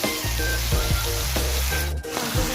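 Pigeon meat fries in a pan with turmeric, a steady close sizzle with occasional stirring scrapes and clinks throughout.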